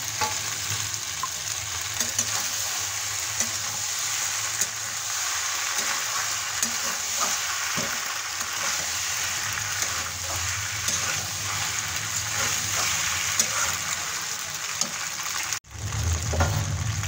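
Pasta is stirred in a frying pan with fried chopped onions and spices, giving a continuous hissing sizzle with intermittent scraping of the utensil and a brief break near the end.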